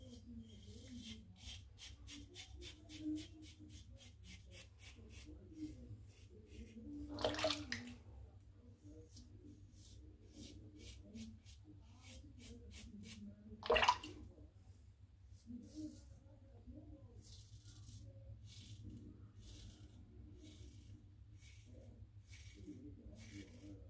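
A shaving brush being rinsed of soap under running water, a steady low stream with two brief louder splashes as the brush is worked under the flow.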